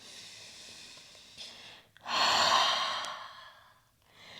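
A deep, relaxing breath during a yoga session, a long soft airy exhale that swells and fades over a couple of seconds after a quieter breath, close and alone.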